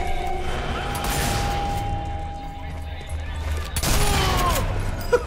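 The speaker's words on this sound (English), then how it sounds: "To end the video, let's go for the sniper battle." Gunfire from a sniper battle in the video game Sniper Elite 4, heard as a sharp shot and crashing burst toward the end over a steady game soundscape with a tonal hum.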